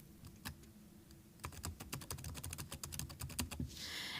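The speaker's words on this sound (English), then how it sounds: "So I'll type in conferencing." Keys clicking on a QBraille XL hybrid braille keyboard, a quiet, close series of irregular taps: a few isolated presses, then a quicker run of keystrokes, with no talking.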